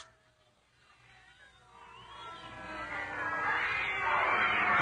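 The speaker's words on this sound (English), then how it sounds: "A plague of cats, Prince." Cats caterwaul at night, a drawn-out wavering yowl that swells from faint to loud over several seconds, with a raspy, rising wail near the end.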